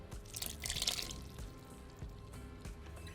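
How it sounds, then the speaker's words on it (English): Soaking liquid from sultanas and raisins trickles into a mixing bowl in soft, splashy dribbles and drips, with a few light knocks, faint and close, with no talking. "Be sure to pour in any liquid that's left in the bottom of the bowl as well."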